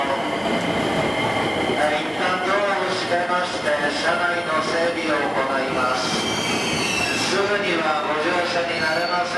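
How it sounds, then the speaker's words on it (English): A Japanese train bound for Mount Fuji rumbles along with wheel squeal and rhythmic clatter, loud and steady from on board, while people talk over it. "we ended up jumping on a train going straight for Mount Fuji"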